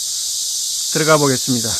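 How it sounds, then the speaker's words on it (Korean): Cicadas sing loudly and continuously outdoors at Seonamsa temple, a high steady buzz that carries on under a man's brief speech. "매미 소리 우렁차게 들리고 있습니다."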